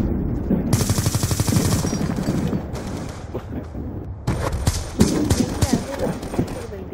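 Rapid automatic gunfire in Call of Duty Black Ops II hardcore team deathmatch on the Cove map: dense bursts of close, loud shots, then choppier scattered volleys, with game sounds in between.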